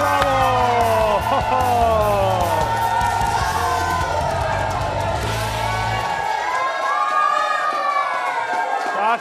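A studio audience cheers, whoops and shouts as a Rudeš footballer enters a Croatian Sunday sports show, loud and sustained, with a rhythmic thumping beat underneath for the first six seconds before it drops away and the crowd continues.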